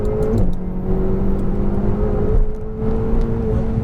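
A Ferrari 488 GTB engine on a racetrack revs through gear changes, its steady high note dropping sharply at each downshift before climbing again, loud and close with no talk.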